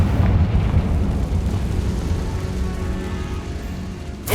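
Confringo spell blast in Hogwarts Legacy: a heavy, rumbling explosion that fills the whole moment and slowly fades, with a fresh burst starting at the very end.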